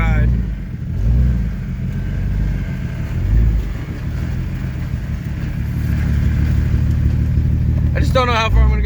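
A Jeep engine running with zero oil pressure and no motor oil, a steady mid-pitched drone with slight rises in revs, fairly loud and continuous, with a brief burst of voice near the end.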